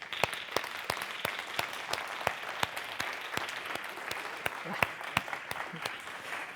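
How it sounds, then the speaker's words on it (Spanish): A conference audience at an AI summit panel applauds, with crisp, evenly spaced claps standing out over a steady wash of clapping, fairly loud and close, sustained throughout. "Un aplauso."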